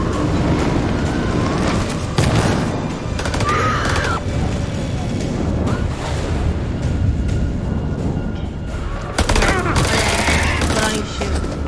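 Repeated gunshots and volleys of gunfire in the horror game House of Ashes crack through a dense, loud, rumbling battle soundscape, with sharp bursts recurring across the stretch.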